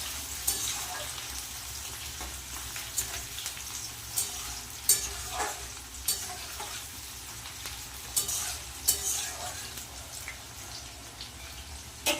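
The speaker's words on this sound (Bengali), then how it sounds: "তেল কিন্তু গরম হয়ে গেছে তেলের মধ্যে দিয়ে দেবো তেজপাতা গোটা জিরে দিয়ে দেবো কুচনো পেঁয়াজ" Bay leaf, whole cumin and chopped onion frying in hot oil, a continuous crackling sizzle punctuated by repeated stirring scrapes and clinks, close and moderate in level, no voices.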